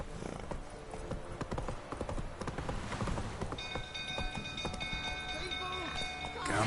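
Horse hooves clip-clopping in The Witcher video game, a quick, continuous beat of hoofsteps close by, overlaid with faint tonal game sounds in the second half.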